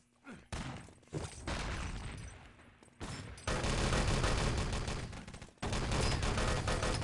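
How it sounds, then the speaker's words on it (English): Dense, sustained automatic gunfire from the Enemy Territory multiplayer shooter, loud and continuous bursts with brief gaps, rattling alongside a few heavier thuds from a competitive match. "Shooting from Insane does get a lot of damage off"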